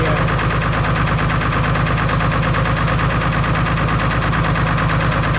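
A GM 4104 bus engine runs loud and close with a rapid, even pulsing beat, steady throughout with no voices.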